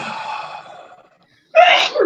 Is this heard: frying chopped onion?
no